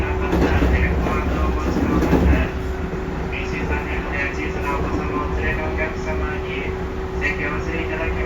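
A JR 311 series electric train, set G4, running toward Ogaki, its steady onboard rumble and wheel noise heard throughout under a recorded announcement, with a brief louder surge early on.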